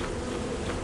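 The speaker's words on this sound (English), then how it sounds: "Yeah, that's a beehive. The bees!" Bees swarm around a beehive in the video game Lethal Company, a dense, steady buzzing drone that fills the short moment without any speech.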